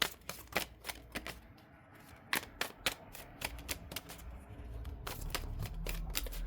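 Tarot cards are riffled and shuffled in rapid bursts of crisp snapping flicks, close up and fairly loud over a low background hum, with no voice.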